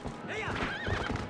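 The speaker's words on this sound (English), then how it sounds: "A horse." A horse in The Legend of Zelda: Twilight Princess video game gives a loud wavering neigh over rapid clip-clopping hooves, with a person talking over the noise.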